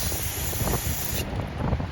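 Brake cleaner solvent sprayed from an aerosol can onto the rear brakes of a 1979 Triumph Spitfire, a steady close hiss lasting just over a second before cutting off into faint workshop noise.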